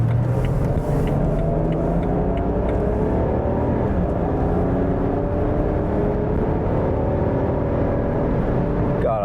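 A daily-driver car's engine and smooth powertrain hum steadily from inside the cabin while driving, with rising and falling tones as it accelerates and shifts, constant and fairly loud throughout.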